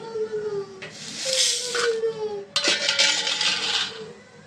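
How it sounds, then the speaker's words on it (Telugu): Lentils (dal) being cleaned by hand in a metal plate or vessel: two bursts of dry grains rattling and sliding, loud and close, over a faint steady hum. "పప్పు క్లీన్ చేసుకుందామండి"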